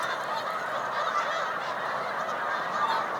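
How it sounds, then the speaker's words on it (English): A large flock of snow geese honks continuously on Cayuga Lake, a dense, steady chorus of overlapping calls at moderate distance with no talking. "Snow geese, everybody."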